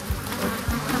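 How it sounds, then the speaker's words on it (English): Honey bees buzz in a dense, steady swarm drone as they are dumped from a box into a beehive, close and continuous for a second with a couple of low thumps. "Now I need to dump the bees into the hive."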